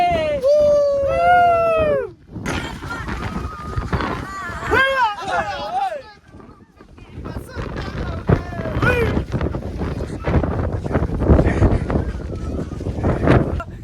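Strong wind at the Mullayanagiri hilltop, gusting and buffeting the microphone in a loud rushing roar, with people talking and shouting excitedly over it.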